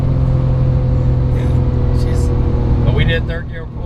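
A 2008 Porsche 911 GT2 (997) accelerates in third gear with a loud, steady engine drone close by. People talk over it, and the engine eases off near the end.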